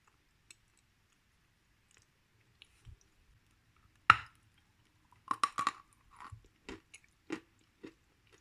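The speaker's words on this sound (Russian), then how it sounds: "Вот сейчас ем эту глинку" Chewing lavender-flavoured Bashkir edible clay, heard as a sharp bite followed by a run of close, dry crunching and squeaky clicks in irregular bursts against near silence.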